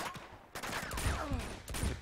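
Gunfire in Uncharted 2 as enemies are shot at, a burst of several sharp shots with short gaps between them, moderately loud over a busy background of game sound.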